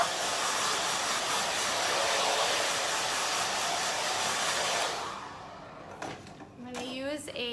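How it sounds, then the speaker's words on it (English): A blow dryer roars steadily and close while freshly clipper-cut short hair is dried. After about five seconds it switches off and a voice begins speaking. "now blow dry that off."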